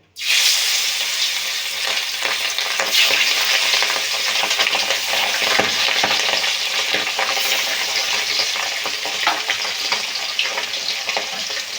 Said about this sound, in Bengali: তেল গরম হয়ে গেছে একে একে আমি মাছগুলো ভেজে নেব